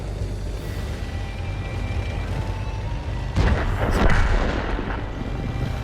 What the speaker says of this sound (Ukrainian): Артилерія вже почала агресувати